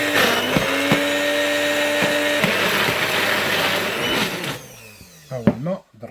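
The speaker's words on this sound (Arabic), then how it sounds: "مستحيل شي ماكينة تخرج لك الماء بالرمان" A kitchen juicer motor whirs steadily as it extracts juice from pomegranate seeds, a loud continuous grind that cuts off, followed by a few sharp clatters and knocks near the end.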